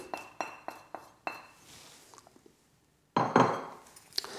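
A spoon clinks and scrapes repeatedly against a saucepan while chocolate melts for hot chocolate served with Spanish churros, a quick run of metallic taps followed by a pause and then a louder burst of scraping.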